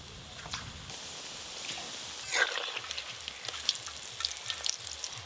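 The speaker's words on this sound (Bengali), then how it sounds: "ফুলকপিগুলো একদম লাল লাল করে ভালো করে ভেজে নিয়েছি" Cauliflower florets coated in thick gram flour batter sizzle while deep frying in hot oil, a steady close crackle and bubbling with occasional sharper pops and faint stirring clinks.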